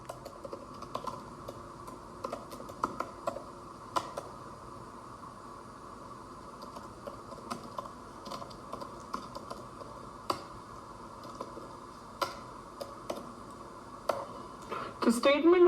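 Java code being typed on a computer keyboard: a steady stream of soft, irregular key clicks at close range over a quiet background, with low talk underneath.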